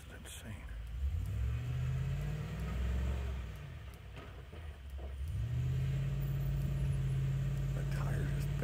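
A car engine revs and drones in long rising sweeps as the tire spins and digs into soft ground, loud and close, with a person speaking over it.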